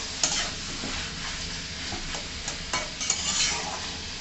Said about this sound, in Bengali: এবারে সব একসাথে মাংস, আলু দিয়ে একটু নাড়ানাড়ি করে ঢাকা দিয়ে দেবো।